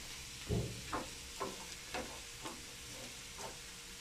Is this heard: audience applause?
no